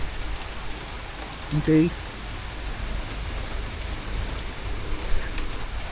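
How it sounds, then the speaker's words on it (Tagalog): Dense, hissing heavy rain pours steadily during a duathlon, with a brief spoken word near the start. "Super lakas ng buhos ng ulan."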